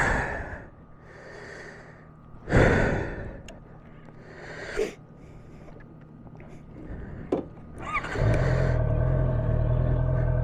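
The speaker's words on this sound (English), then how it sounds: "it's getting a little warm, moving around in all this gear, got me panting a little bit" A person pants heavily while moving around in gear at a VFW post with a tank on Main Street, giving a few strong breathy exhales close up before a steady, loud engine rumble takes over near the end.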